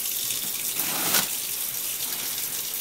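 Water runs steadily from a sink tap while hands are rinsed during handwashing before a heparin injection, a continuous close hiss with a brief louder splash near the middle.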